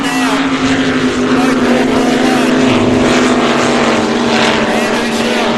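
An Australian Super Boat racing powerboat roars at full throttle at Geelong, a loud, steady, high-pitched engine drone holding close and constant, with a commentator talking over it.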